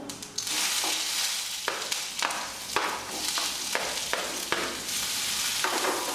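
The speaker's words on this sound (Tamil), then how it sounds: "வெங்காயம் வெள்ளைப்பூடு கருவேப்பில் நல்லா வதக்கி விட்டுங்க" Onions, garlic and curry leaves sizzle steadily in a hot pan, with periodic scraping knocks as they are stirred, close and continuous.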